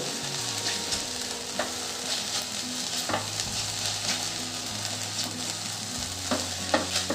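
Sago pearls frying in a pan for sweet sabudana khichdi, a continuous soft sizzle with periodic scraping stirs of a spoon against the pan, no talking.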